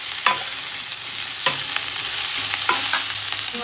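Ground masala spices frying in oil in a pan for a rustic chicken curry, a close, steady sizzle with scraping stir strokes every second or so.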